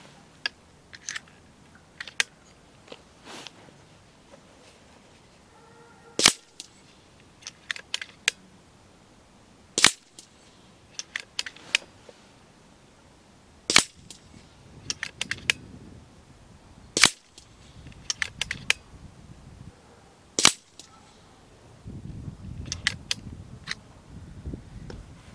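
An FX Crown air rifle firing H&N Hades pellets gives five sharp, isolated cracks spaced several seconds apart, with light clicks and handling noises between shots, fairly quiet overall.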